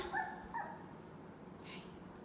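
A big, healthy young puppy whimpers and yips in short high cries near the start, then falls to quieter faint whines over a low room hum.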